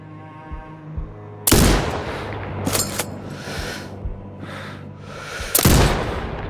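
Sniper rifle shots ring out in the video game Sniper Ghost Warrior Contracts 2, with two loud, sharp reports a few seconds apart, each trailing off, plus fainter distant cracks in between.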